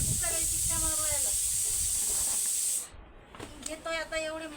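A kitchen pressure cooker releases steam in a loud, steady hiss that cuts off abruptly after nearly three seconds, while a person talks over it before and after.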